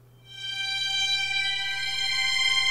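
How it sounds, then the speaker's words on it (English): A tremolo violin sample from a soundfont in LMMS holds one sustained, rich harmonic tone that swells in over the first half-second and rings steadily, alone. "I have a tremolo violin that sounds like this."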